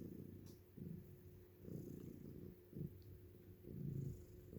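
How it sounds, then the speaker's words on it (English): Two feral cats cuddled together indoors on a couch purr steadily up close, a low rumbling drone that swells in repeated breathing pulses with no talking. "Are we having a purr party?"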